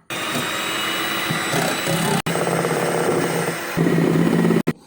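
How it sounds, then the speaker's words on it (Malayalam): Three eggs being whipped for cake batter with an electric beater: a steady motor whine runs loud and close, cutting out briefly twice and rising in pitch and strength near the end, with no talking. "അപ്പോൾ നമ്മളെ 3 മുട്ടയും നമുക്ക് ബീറ്റാക്കി എടുക്കാം"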